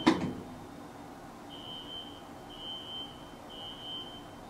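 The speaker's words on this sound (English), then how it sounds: "the fire alarms are going off at the building across from me, and they're really loud" A distant fire alarm in a nearby building sounds in repeated long electronic beeps, about one per second, faint and muffled, after a brief knock.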